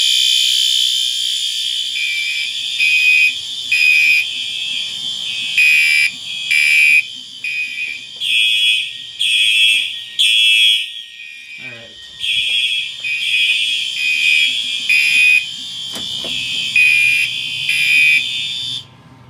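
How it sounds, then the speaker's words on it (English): An electric home fire alarm system under test sounds loud and close, its piercing tone buzzing in a steady run of repeated short pulses, with a brief break partway through. "I should probably set that alarm to, temporal and not continuous"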